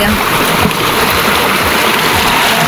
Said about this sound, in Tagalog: talaga naman po napakalakas ng tubig